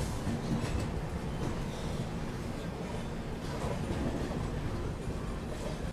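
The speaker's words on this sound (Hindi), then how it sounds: "अपनी ट्रेन का डिपार्चर हो चुका है चेन्नई सेंट्रल रेलवे स्टेशन से।" The Chennai Express rolls steadily out of Chennai Central railway station, giving a constant loud rumble of wheels and carriage noise that fills the whole stretch without pause.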